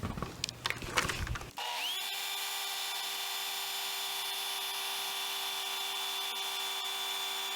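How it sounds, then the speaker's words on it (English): A leaf blower starts up and holds a steady, loud whine for several seconds as it keeps a beach ball levitating on its airstream, following some brief handling noises. "I'm gonna make the beach ball levitate by placing it on top and turning my leaf blower on"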